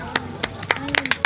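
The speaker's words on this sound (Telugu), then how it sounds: "గట్టిగా చప్పట్లు కొట్టండి." Audience clapping at a Maha Shivaratri festival performance in Rachakonda, heard as a handful of short scattered claps rising over a steady background, with a voice talking faintly beneath.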